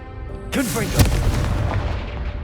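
In Hogwarts Legacy, the Confringo blasting spell goes off with a sharp whoosh, then a heavy booming explosion that rumbles and slowly fades.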